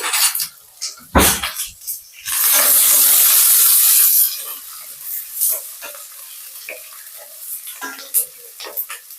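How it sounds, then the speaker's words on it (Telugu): Onions and curry leaves frying in a pan for a broad beans curry: a loud burst of hissing sizzle as they go into the hot oil, then softer crackling with scraping stirs. "కొంచెం ఉల్లిపాయ బాగా వేగాలి బ్రౌన్ కలర్లోకి టర్న్ అవ్వాలి"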